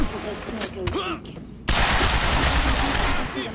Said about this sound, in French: Je sais même pas sur quoi je tire.